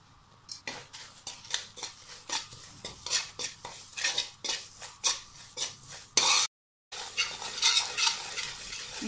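Semolina, gram flour and coconut roasting in desi ghee, with a spoon scraping the pan in quick repeated strokes, close and clear, and a brief pause near the end.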